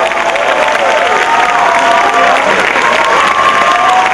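Cheering squad applauding and shouting at a Thai Khon masked dance performance, a loud, dense wall of clapping and crowd cheers sustained throughout, with whistle-like voices rising above it.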